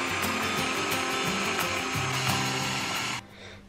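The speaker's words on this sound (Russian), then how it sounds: "И все очень тщательно перемешиваем." An electric mixer whirs loudly and steadily, close up, as curd cheese and two eggs are beaten into a pancake batter, then it cuts off abruptly near the end.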